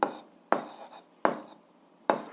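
Someone writes an algebra expression by hand, producing four crisp, separate stroke sounds at uneven intervals, close and clear, with no talking.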